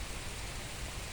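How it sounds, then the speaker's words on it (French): Rain falls outdoors in a dense, steady, soft wash of noise with no distinct drops or voices, fairly faint throughout. "Mais là, on est en train de se prendre la pluie."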